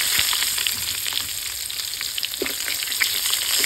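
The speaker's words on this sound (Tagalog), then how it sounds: "Iprito ko na din tong talong." Eggplant fries in hot oil alongside field rat meat, giving a loud, continuous sizzle dotted with sharp crackles and spatters, close up and without talk.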